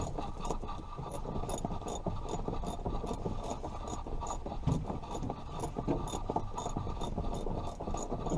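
A socket wrench ratchet clicks in a steady, quick rhythm of fairly quiet, close mechanical ticks as it turns a fastener, with no talk over it.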